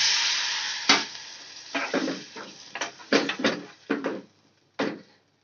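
Water poured into a pot of black pea curry with potato, a broad hissing sizzle at first, followed by a run of short splashing and scraping bursts from stirring that fade out near the end.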